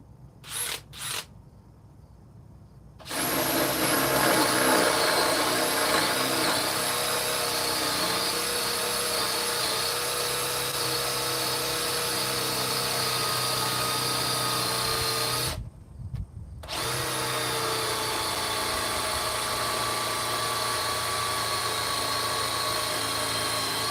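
DeWalt cordless drill spinning hard at speed setting 2, a loud sustained high-pitched whir that starts after a few seconds, drops out briefly, then resumes and runs steadily to the end.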